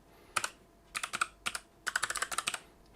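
Keys clatter on a computer keyboard in short bursts of light, quick taps, close and fairly quiet, with small pauses between groups of keystrokes.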